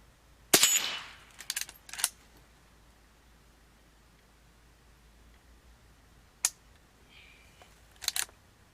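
A Henry Silver Eagle .22 carbine fires several sharp, close shots outdoors, spaced apart with quiet gaps between them; two shots come in quick pairs.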